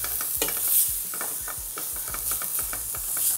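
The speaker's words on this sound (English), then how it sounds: "We're gonna let this saute for another minute or so." Onions and garlic seasoned with salt and black pepper saute in a pan, giving a steady close sizzle broken by regular scraping strokes of a stirring utensil, with no talking.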